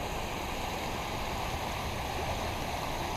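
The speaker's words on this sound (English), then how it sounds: "You can actually see the river right back over in there on the other side of the guardrail where the road is 2 feet underwater." Floodwater from the French Broad River rushing steadily over a submerged road, a loud, continuous broadband roar with no pauses and no voices.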